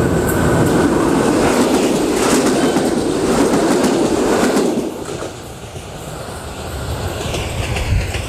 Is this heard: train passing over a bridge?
yes